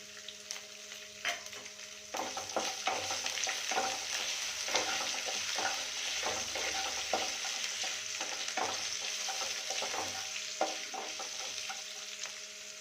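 Chopped ginger and green chili sizzle steadily in hot oil in a pan for upma, with a spatula stirring and scraping in repeated soft knocks throughout, close and without talk.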